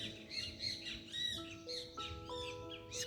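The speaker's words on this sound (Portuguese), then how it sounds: "Escuta o passarinho cantando" A small bird chirps and sings outdoors in the sun, faint and distant, with short squawky notes and whistled tones repeating across the few seconds.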